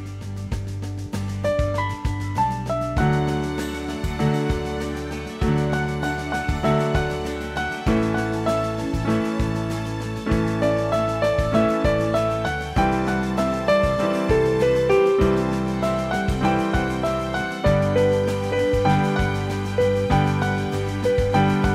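A piano plays the full chorus passage of a song, steady chords under a melody, continuous and fairly loud with no voices.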